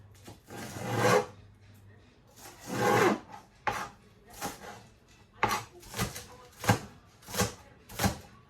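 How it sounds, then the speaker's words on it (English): Knife chopping spring onion (scallion) on a board in a home kitchen, a few scraping strokes followed by a run of sharp, evenly spaced chops, close and clear with no talk. "Cut up my spring onion."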